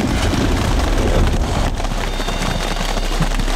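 Heavy rain pouring down beside a roaring waterfall, a dense, constant wash of noise that stays loud and steady throughout with no pauses.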